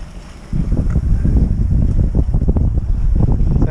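Wind gusts buffet a sailboat under way in the Gulf of Naples near Capri, a loud broadband rush that surges in from half a second and churns steadily with choppy bursts, no talk.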